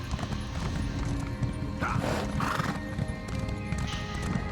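Continuous rapid hoofbeats of a galloping horse with a couple of whinnies, steady and up close, no talking.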